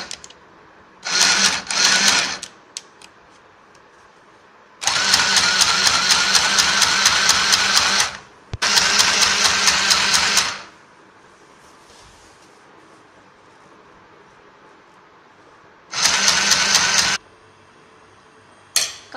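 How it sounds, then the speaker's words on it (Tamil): Sewing machine stitching the inner fold of a chudi bottom: four loud bursts of fast, steady whirring and needle clatter, separated by pauses of near silence, the longest runs lasting about three seconds. "உள்பாகத்தில் தையல் ஓட்டணும்."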